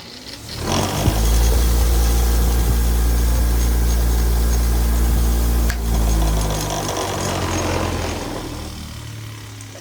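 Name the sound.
bench grinder running, rattling the workbench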